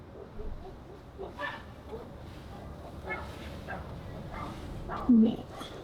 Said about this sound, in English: got a lot of dogs in this neighborhood that like to bark